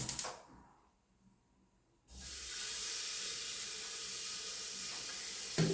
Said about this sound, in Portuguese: A panela já está aquecida e eu já vou entrar com a nossa gordurinha.